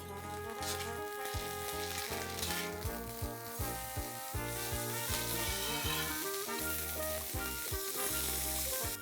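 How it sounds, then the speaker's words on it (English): Ginger and garlic paste sautéing with browned onions in a pan, a loud, continuous sizzle and crackle with a few stirring scrapes, alone with no voices. "Let's add a teaspoon of ginger paste and a teaspoon of garlic paste and saute till the raw smell goes off"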